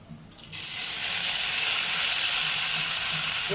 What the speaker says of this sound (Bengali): তেলটা পুরোপুরি গরম হয়ে গেছে এবার মাছগুলোকে দিয়ে দেবো